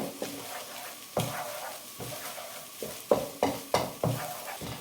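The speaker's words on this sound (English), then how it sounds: "One final stir." Chicken in black bean sauce with scallions and peppers gets stirred in a hot wok, a quiet sizzle punctuated by a series of sharp metallic scrapes and clacks that come faster toward the end, with no talking.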